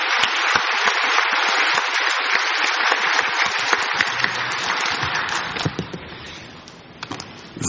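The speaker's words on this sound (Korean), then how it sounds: "과지만 목사님 나오실 텐데 우리 박수로 환영하겠습니다." A church congregation applauds to welcome a pastor, with dense, sustained clapping that fades toward the end into a few scattered claps.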